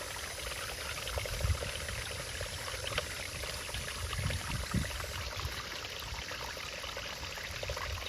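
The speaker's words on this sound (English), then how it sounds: "the pump that I have inside here doing the recirculating runs off of AC power" An AC-powered pump recirculating water in a gold prospecting setup on private property in Llano, Texas, producing a steady splashing, pouring flow that runs continuously at moderate level with no talking.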